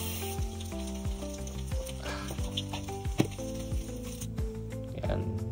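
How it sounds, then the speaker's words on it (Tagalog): Fish frying in hot oil give a steady close sizzle and crackle, with some soft stirring noises and no voices over it. "prito na natin lahat ng isda"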